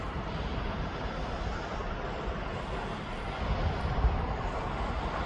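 Steady broadband roar of a jet aircraft at East Midlands Airport, a continuous distant engine rumble that swells slightly toward the end, with no talk over it.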